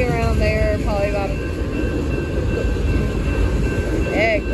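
A freight train rolls past, gathering speed, with a loud, continuous low rumble and clatter; squealing tones rise and fall over it, and a voice talks in the background.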